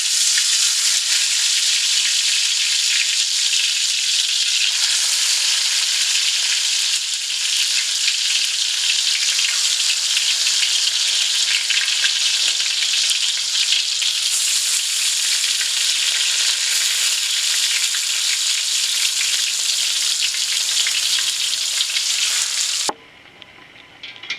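Marinated chicken pieces, already mixed with butter cubes, fry in a pan for a Delhi-style chicken barra curry, giving a loud, steady, dense sizzle that holds throughout and drops away abruptly near the end.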